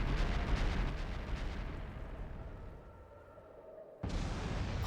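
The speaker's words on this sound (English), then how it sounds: "I don't know what caused it, but by the looks of that explosion" An explosion in Trails of Cold Steel: a loud, deep booming blast that rumbles and slowly fades over a few seconds, then a sharp new burst of noise cuts in near the end.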